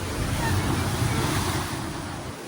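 Steady roar of ocean surf in Bali with wind buffeting the microphone, a continuous wash of breaking waves heard close.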